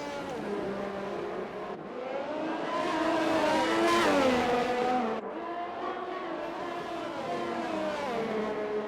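Race cars in a racing video game at the Italian Grand Prix drone steadily with layered, revving engine tones, swelling as a car passes near and shifting pitch through gear changes, continuous and without talk.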